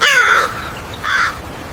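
A crow caws twice, loud and close, two harsh separated calls standing alone as a sound effect in a children's fable about a fox and a crow.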